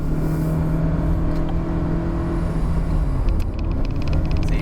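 Engine of a 2019 Proton Saga climbing Genting hill, a loud steady drone and rumble with a brief dip as a gear shift happens midway, heard from inside the car.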